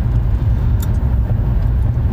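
A Mercedes-Benz S-Class W220 S55 drives along with a heavy, steady low engine rumble heard from inside the cabin, loud and continuous without speech.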